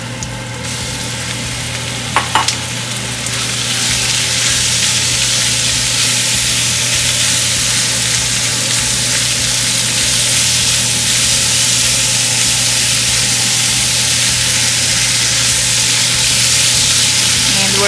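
Beef searing with garlic in a soup pot, a loud, steady, continuous sizzle that swells after a few quiet seconds and then holds without a break.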